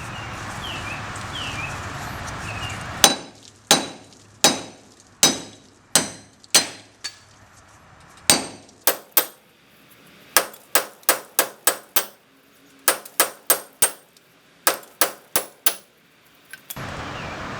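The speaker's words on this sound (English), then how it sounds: "I'm just going to hit these with hammer" A hammer striking metal again and again, tapping out wheel studs from an Evo hub, sharp ringing blows in uneven runs, some spaced and some rapid, close and loud.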